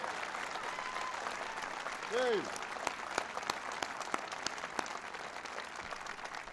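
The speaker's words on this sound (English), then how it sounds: "Give them a big round of applause." Audience applause at a political speech, a steady dense wash of clapping throughout with a brief cheer over it early on.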